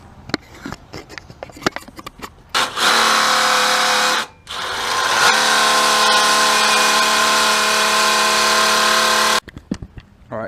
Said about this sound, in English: so far that's what I've done with that drill